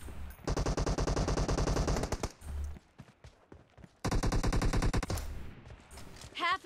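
Rapid automatic gunfire in PUBG Mobile rattles in two long, loud close bursts with a short pause and scattered single shots between them.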